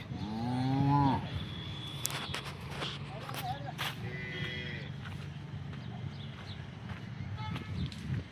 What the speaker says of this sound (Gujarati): પછી હવે આરી આ ગાય છે